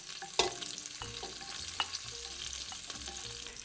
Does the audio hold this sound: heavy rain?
no